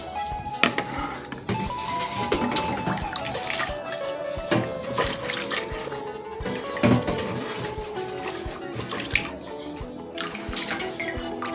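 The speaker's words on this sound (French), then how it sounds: "Et on rince." Water running and splashing while a Congolese Tshitonga utensil is rinsed, with irregular clinks and knocks from handling the vessel, steady and close, no talking.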